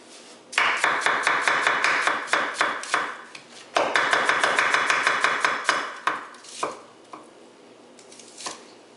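Rapid chopping with a thick German cleaver on a cutting board, two long bursts of quick, crisp knocks followed by a few slower, scattered strikes, close and clear with no talking.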